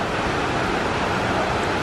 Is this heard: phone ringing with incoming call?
no